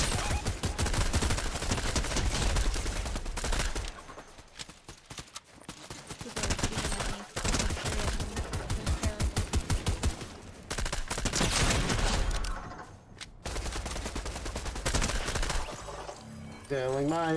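Automatic gunfire in a Fortnite squads match comes in long, loud, rapid bursts with brief pauses between them. A couple of short breaks fall in the middle, and the sequence ends in a sweeping game tone.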